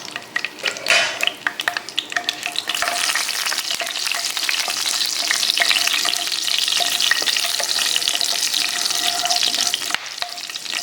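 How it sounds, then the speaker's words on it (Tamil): Cinnamon, cloves, cardamom and fennel seeds fry in hot oil for an egg gravy, a loud, steady sizzle with crackles and occasional scraping from stirring, with no voices. "எண்ணெய் காஞ்சிட்டு இந்த பட்டை, லவங்கம், ஏலக்காய், சோம்பு இதெல்லாம் ஆட் பண்ணி அது பொரியும் போது"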